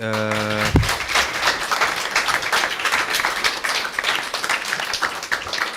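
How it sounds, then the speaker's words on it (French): An audience applauds guests at an interview with a basketball team captain, dense, lively clapping that starts after a short tone and keeps going at a steady, energetic level. "Je vais simplement demander au public de vous applaudir, parce que je pense que les applaudissements sont tout à fait mérités."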